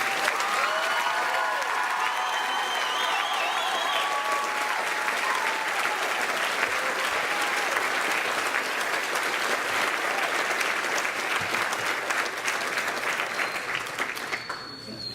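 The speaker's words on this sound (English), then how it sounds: "Have a one more round of applause." Loud sustained applause from a crowd at the Candor class of 2017 commencement ceremony, dense clapping holding steady for several seconds before tapering off near the end, with a few voices and cheers mixed in.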